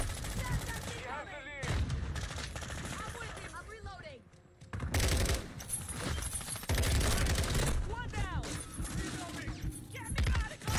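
Rapid bursts of automatic gunfire and shots rattle through a video game firefight, loud and near, with overlapping volleys, thuds and brief pauses, while a voice talks over the action.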